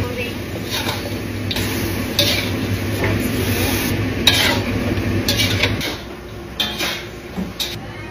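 Metal utensils scrape and clatter in a pan as frying chicken is stirred, with a soft sizzle underneath and a voice talking over the cooking noise.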